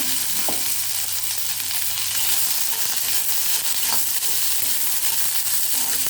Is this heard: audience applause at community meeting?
no